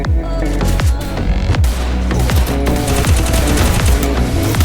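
Rapid automatic gunfire from the Free Fire mobile battle game, dense bursts of loud overlapping shots and booming impacts running continuously without pause, with no talking.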